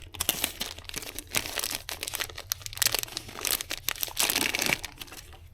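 A reusable plastic bag holding motorcycle snap rings is opened, giving close, quiet crinkling and rustling in irregular bursts, with a louder crumpling stretch near the end.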